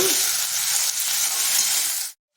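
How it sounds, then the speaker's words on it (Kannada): Chopped vegetables fry in hot oil with a steady, close sizzle and hiss, salted as they cook for a pulao, continuing evenly before cutting off abruptly near the end. "ಒಂದು ಸ್ವಲ್ಪ ಅದನ್ನು ಎಣ್ಣೆಯಲ್ಲಿ ಫ್ರೈ ಮಾಡ್ದಂಗೆ ಆಗುತ್ತೆ ಅದರಿಂದ ಸ್ವಲ್ಪ ಹುರ್ಕೊಳ್ಳೋಣ"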